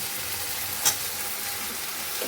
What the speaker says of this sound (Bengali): তো আলু মোটামুটি কষানো হয়ে গেছে মশলার সাথে এবার আমি এর মধ্যে কেটে রাখা শাকগুলো দিয়ে দেবো